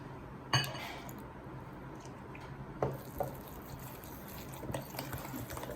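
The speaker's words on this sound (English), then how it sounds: "Now we are going to whisk it" A whisk beats pancake batter with milk in a bowl, giving faint, uneven liquid swishing and a few sharp clinks against the bowl.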